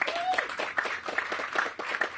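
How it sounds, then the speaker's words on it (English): A small outdoor audience claps for a project team at a groundbreaking for affordable senior housing in Washington, DC, moderate scattered applause with a brief whistle near the start. "Let's give them a big round of applause."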